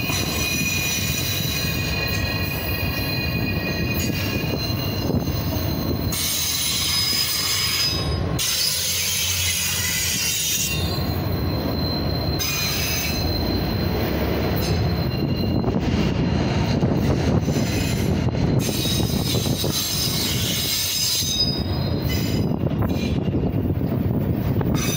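Southbound autorack freight train rolling past close by, a loud continuous rumble with high metallic wheel squeal rising and falling throughout, steady and unbroken for the whole stretch.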